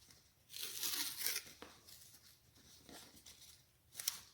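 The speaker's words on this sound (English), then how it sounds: "First we tape them together, just like this. And turn it over and taping." Tape ripping and crinkling as it is wrapped around two rubber balls to join them into a massage ball, a close, soft series of tearing strips with quiet pauses between.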